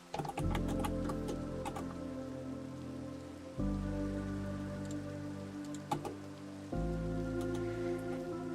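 Steady rain falls in the Minecraft video game, a continuous patter of drops with faint ticking and occasional clucking chickens, playing alone without talk and cutting briefly at two points.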